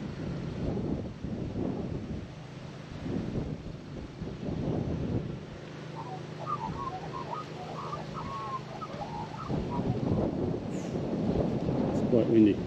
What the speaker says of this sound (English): It's quite windy, okay.